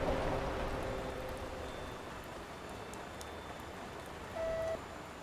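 Rain falls on a wet airport in a simulator video game, a steady, even hiss of moderate loudness that persists throughout, with a brief faint tone near the end and no talk.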